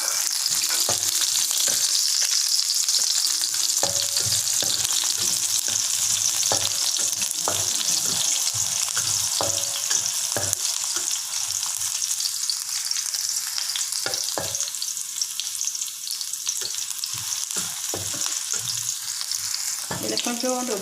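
Onions and ripe red chillies stir-frying in a pan for a pak choy dish, a continuous loud hiss of sizzling oil broken by repeated clacks and scrapes of a spatula, close up, no talking.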